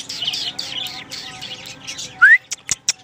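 A pet red-vented bulbul gives a rising whistled call, then several sharp, close chirps in quick succession after a stretch of softer sounds.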